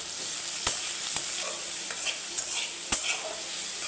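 Shrimp tossed with turmeric and salt in a hot pan, sizzling steadily while a spatula scrapes and taps against the pan in a few sharp strokes.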